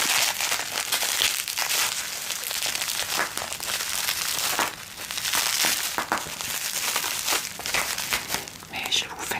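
Scissors snip and slice through packing tape while a perfume parcel is opened, with crinkling, tearing and rustling of wrapping close up and steady throughout, under soft whispered French speech.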